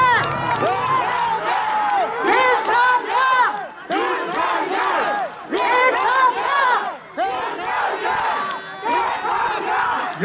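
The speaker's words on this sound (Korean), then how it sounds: "여러분의 이 열화와 같은 함성" A large crowd at a presidential campaign rally in Changwon, Masan, cheers and shouts continuously, dense overlapping voices staying loud throughout with brief dips in intensity.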